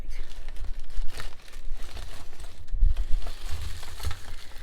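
A hand rummages through a plastic bag of jewelry, making continuous close crinkling and rustling with soft clinks and crunches, with no speech.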